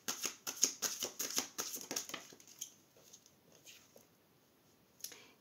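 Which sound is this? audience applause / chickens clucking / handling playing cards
handling playing cards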